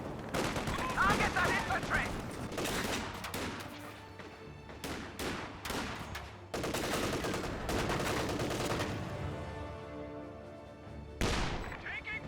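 Gunfire from a Company of Heroes 2 battle between German OKW and US forces: bursts of rifle and machine-gun shots crack sharply in irregular clusters, layered over a rumbling battlefield din throughout.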